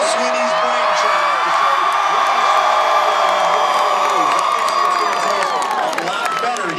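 Clemson fans roar and whoop in a packed building at a conference championship celebration, a loud, continuous crowd cheer with scattered shouts and claps filling the whole stretch.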